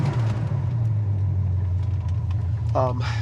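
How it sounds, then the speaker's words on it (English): A 1971 Plymouth Duster idling just after a cold start, before the temperature gauge has warmed, giving a steady low engine rumble heard close up, with a brief mechanical rattle near the end. "As far as our idle right now, when we're still, it was a cold start."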